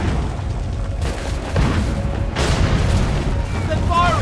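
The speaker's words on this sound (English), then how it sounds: "They're firing!" Soldiers fire a volley of muskets in the Assassin's Creed 3 video game, heard as a few heavy booming blasts and bursts over a dense rumbling battle din, with voices shouting over it.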